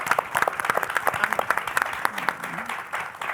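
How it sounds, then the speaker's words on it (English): Audience applause for a conference panel, a dense run of claps at moderate level with a faint voice briefly underneath. "I would like you to join me in giving a round of applause to this fantastic panel"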